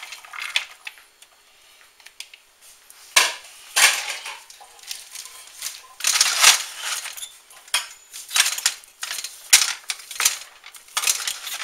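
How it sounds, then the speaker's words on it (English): Chopped onion going into a pot of chili, heard as a series of close, crisp clattering and scraping bursts of utensil against cookware, irregular and unvoiced throughout. "And we are going to put our onion in there with it."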